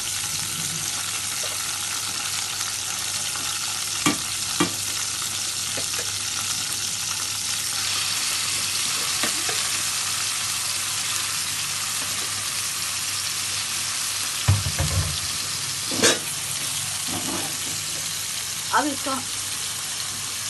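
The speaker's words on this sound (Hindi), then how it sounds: "अब इसमें हम चमचा बिल्कुल भी नहीं चलाएंगे, बस हल्का सा इसको फ्राई होने देंगे।" Continuous sizzling of garlic and ginger frying in a pan for prawn karahi, with occasional clinks and scrapes of a spoon and brief soft sounds over the steady crackle.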